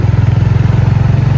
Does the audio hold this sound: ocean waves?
no